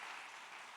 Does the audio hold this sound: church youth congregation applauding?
yes